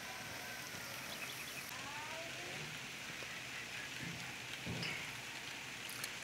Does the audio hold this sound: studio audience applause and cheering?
no